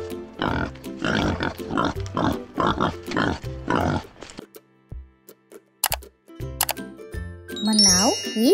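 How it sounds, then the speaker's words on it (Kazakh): A wild pig grunts in a rapid run of repeated short bursts for about four seconds, then gives way to scattered chimes and dings. "Ал бұл доңыз."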